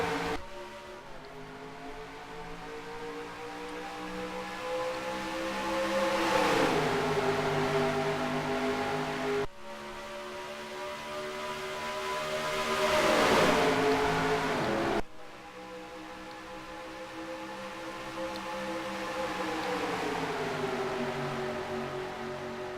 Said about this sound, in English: Hectic racing for the first lap here.